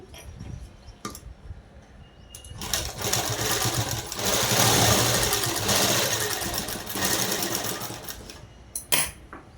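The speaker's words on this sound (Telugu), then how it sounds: "దీన్ని కరెక్ట్గా ఉండేటట్టు ఇలా చూసుకొని ఇక్కడ అనేది కుట్టు వేసేసుకోవాలి" A sewing machine stitches a night dress in bursts, with short starts and then a long, steady mechanical whirr in the middle, close by with no voices.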